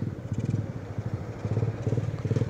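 Motorcycle on a group ride out to Infanta, Quezon: a close, continuous low engine rumble with pulsing throb and light rattling, no talking.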